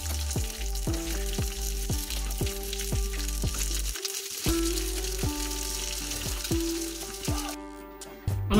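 Chopped onion fries in a pan for Rajasthani veg dal, a close, constant sizzle with a clear repeating tonal hum and clinks running underneath, growing louder near the end.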